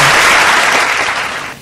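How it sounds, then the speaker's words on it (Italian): Audience applause after a performance, a dense, steady wash of clapping that stays loud throughout, then thins and drops off at the very end. "facciamo un bel applauso"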